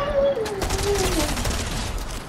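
Rapid video game gunfire crackles in a dense volley, with a thin whistling tone gliding downward underneath during the first second.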